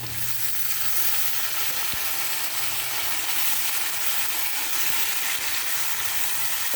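Tomatoes fry with bitter gourd in a pan, making a steady, dense sizzle that runs the whole time, with one brief clink partway through and no talking.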